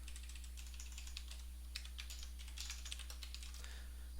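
Light, quick clicking of keys on a computer keyboard, faint and uneven, over a steady low electrical hum with no talking.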